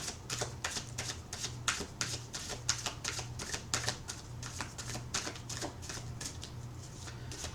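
Tarot cards are shuffled and drawn in a long run of crisp, rapid riffles and taps, close and fairly loud, with no talk over them.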